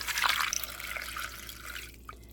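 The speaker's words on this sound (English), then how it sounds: "And then I'm just gonna put some water in to cover." Water poured into a pot over sausages, chopped onion and pepper, a soft splashing gush that is strongest at the start, then trails off into fainter trickling and a last drip.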